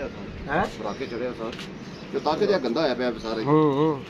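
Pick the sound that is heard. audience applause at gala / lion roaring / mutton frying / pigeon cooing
pigeon cooing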